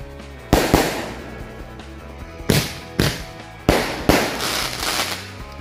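Firecrackers set off during the fasting month burst in a series of about five sharp, loud bangs, the last few coming close together with crackling tails.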